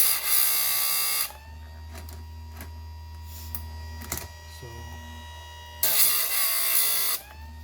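A Harbor Freight chain sharpener grinds a chainsaw chain in two short, loud, harsh bursts, separated by a quieter motor hum with small clicks as the chain is repositioned.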